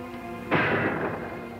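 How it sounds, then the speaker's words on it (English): A single gunshot fired outside at night, a sudden muffled boom that decays over about a second, heard at a distance over a quiet indoor room tone. "That gun again."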